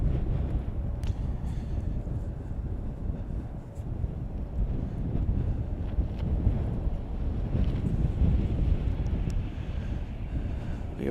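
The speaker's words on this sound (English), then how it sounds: "the wind has died down a little bit" Steady wind gusts buffet the microphone outdoors at Chicago O'Hare International Airport, a continuous loud rumbling roar with no talk.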